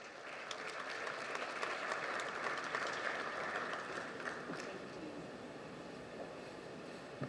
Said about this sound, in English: Can we please give him another round of applause?